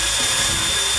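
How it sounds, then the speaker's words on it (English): A Makita cordless drill runs loud and steady at full speed, boring a hole with a high-quality drill bit while a smoker is built from metal parts. "So we just got a cordless drill."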